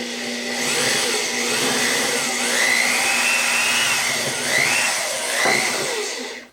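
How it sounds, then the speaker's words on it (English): A power drill bores a guide hole while building a bike trailer, its steady whine running continuously and close for about six seconds with slight pitch shifts, no talk over it. "So we're just getting the drill ready."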